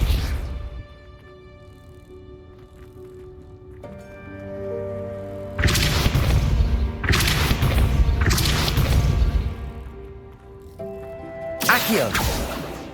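Depulso force spell blasts cast in the Hogwarts Legacy video game, Room of Requirement quest: several loud, booming bursts land close together, with another near the end, over a quieter bed of game music.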